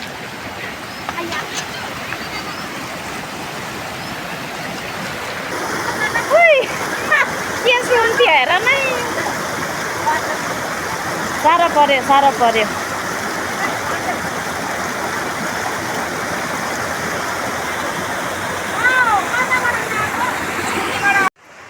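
A mountain stream flows and splashes in a steady rush, with people talking loudly over it throughout.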